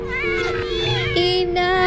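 Several house cats yowl and meow in agitation, sustained wavering cries close by and loud, layered over steady game music tones and a brief low voice.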